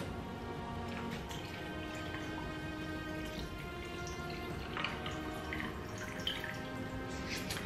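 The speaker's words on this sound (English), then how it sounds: "I'm going to pour my cocktail directly over the ice." Cocktail poured over ice into a fresh glass makes a steady liquid trickle and splash with small crackles of ice, continuous and close.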